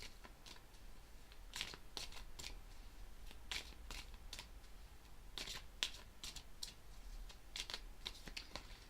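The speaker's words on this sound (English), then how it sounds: "I'll shuffle them a little bit more before I cut the deck and draw the cards" A tarot deck being shuffled by hand, with repeated crisp riffles and flicks of the cards in bursts, close and fairly quiet against a soft room hum, with no talking.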